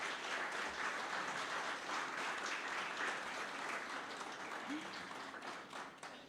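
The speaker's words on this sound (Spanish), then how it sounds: "Le damos un fuerte aplauso" Audience applause at a public administration conference in Mexico: a sustained, fairly quiet wash of many hands clapping from a seated crowd, tapering off toward the end.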